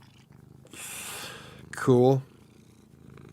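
A cat purrs softly in the background, with a brief louder burst of purring or a chirpy vocal sound near the middle. People talk over it.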